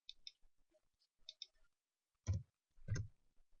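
Computer mouse clicks while working in XLMiner software, a few quiet light ticks followed by two louder, closer clicks, with no talking.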